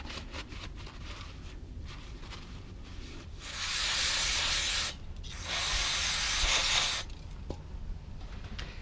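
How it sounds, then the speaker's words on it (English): A very dirty throttle body being cleaned, alternating brush scrubbing with two loud, sustained hissing blasts of spray cleaner from a can, each lasting a couple of seconds, close and alone with no talk. "the combination of scrubbing with this brush and blasting it with the pressure from this can is doing the job"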